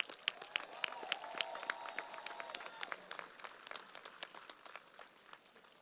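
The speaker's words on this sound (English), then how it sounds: "Give them a round of applause." A graduation audience at WJ Keenan High School gives a round of applause for the teachers, distinct, crisp individual claps from a moderate crowd heard at a distance, thinning gradually toward the end.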